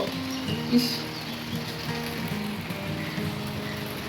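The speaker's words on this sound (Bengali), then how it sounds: "দেখো কি হারে বৃষ্টি হচ্ছে গো" Heavy rain pours down on a wet day as a steady, even hiss that fills the whole clip at moderate loudness, with no voices and only faint background sounds.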